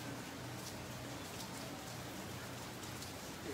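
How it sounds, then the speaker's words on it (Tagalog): Heavy typhoon rain pours steadily as a dense, unbroken hiss of drops on surfaces, loud and constant throughout with no voices. "malakas din ang daladala nitong mga pag-ulan"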